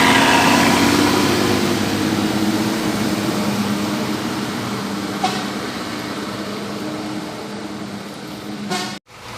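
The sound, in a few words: PMH bus engine idling while entering the terminal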